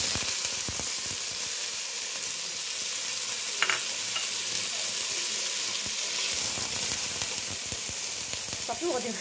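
Chopped onion and garlic fry in a little oil, a steady broadband sizzle running throughout with occasional soft stirring clicks and a brief sharper crackle partway through, close and fairly loud.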